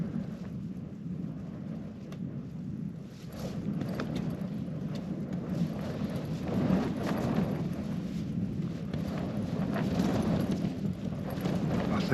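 A low, distant rumble of thunder rolls on continuously, swelling slightly partway through, with a steady wash of rain-like noise underneath.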